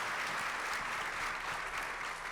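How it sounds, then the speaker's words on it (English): An audience at a healthcare innovation panel on women's health gives steady, even applause, a continuous wash of many hands clapping at moderate volume from start to finish. "give them a round of applause"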